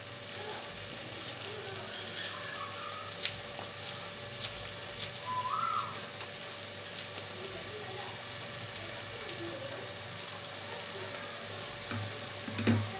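Green peas and egg poriyal fry in a pan with coriander and curry leaves added, a steady close sizzle with occasional stirring scrapes and light pops, no voices.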